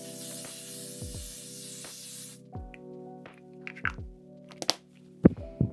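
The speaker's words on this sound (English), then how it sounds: "Infallible 36-hour wear 3-second setting mist" Several short bursts of L'Oréal Infallible 3-second setting mist spray, a 36-hour wear formula, hiss out one after another, close and fairly loud, over a steady background hum with no talking.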